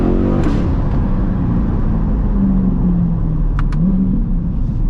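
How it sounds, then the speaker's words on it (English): Straight-piped C8 Corvette exhaust at night in Miami, loud and close, a deep steady drone with a rev rising and falling and a couple of sharp crackling pops. "the pops will never get old on this car, ever"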